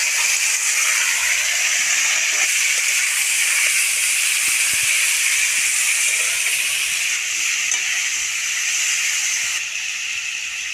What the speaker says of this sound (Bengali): ভালো করে কলটা গরম হয়ে গেছে সারুটা দিচ্ছি সবগুলো একসঙ্গে ভেজে নেব